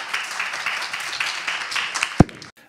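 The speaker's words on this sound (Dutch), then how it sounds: "Applaus voor deze." Audience applause after a panel discussion at a film festival, a steady wash of clapping from a crowd that holds for a couple of seconds before tapering off with one sharp louder clap near the end.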